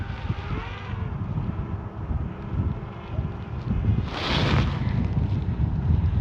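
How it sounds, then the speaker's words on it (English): Rough, blustery wind of 19-mile-an-hour gusts buffets a Hubsan Ace 2 drone's microphone about 53 meters up, in uneven gusts, with a stronger rushing surge near the end; no voices. "Now we've got 19-mile-an-hour gusts"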